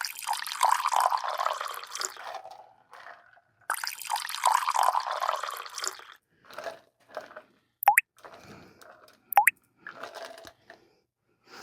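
A green tea shot cocktail is double strained into shot glasses, with two bursts of liquid splashing through the strainer, then trickles, drips and a couple of sharp clinks of glass or metal, close and with no talking.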